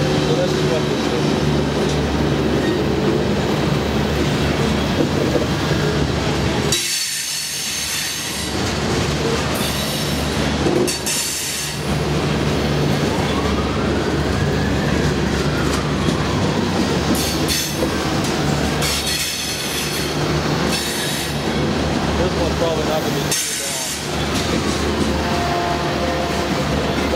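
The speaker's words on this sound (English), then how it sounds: "So they're testing these trains through here to see if it's gonna be better than the diesel stuff." Union Pacific freight trains roll past close by, with a continuous rumble of railcars, clattering wheels and squealing on the rails, and a few brief breaks in the noise; people talk over it at times.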